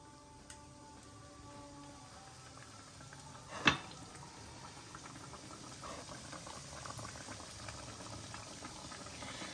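Breaded boneless chicken pieces bubbling in medium-hot oil, a steady dense crackle and hiss throughout with one brief sharper spatter near the start, no voices.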